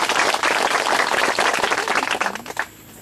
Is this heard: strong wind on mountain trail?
no